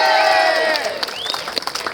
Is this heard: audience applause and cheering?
yes